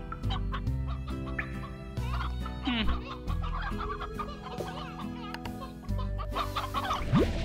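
Chickens clucking in the video game Slime Rancher, several short bursts of hen clucks over game music and effects, fairly close and clear.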